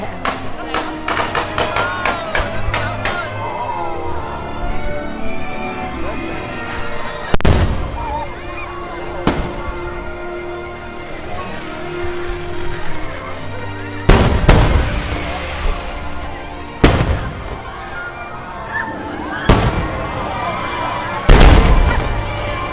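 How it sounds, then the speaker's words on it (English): A proscenium fireworks show at Walt Disney World, with repeated sharp bursts and booming explosions spread through the clip over a steady crowd murmur and nearby talk. "It's the proscenium fireworks."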